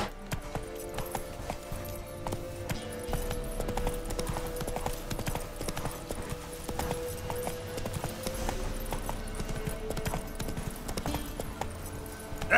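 Roach, the horse in The Witcher 3, trots along with a steady, rhythmic clip-clop of hooves, close and continuous, over soft ambient game sound.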